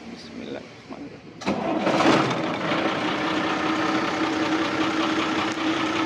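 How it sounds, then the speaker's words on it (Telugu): A lorry's diesel engine cranks and catches after a quiet moment at a godown in Khammam, then settles into a loud, steady, rumbling idle close by. "ఇంజన్ అయితే స్టార్ట్ చేసేద్దాం"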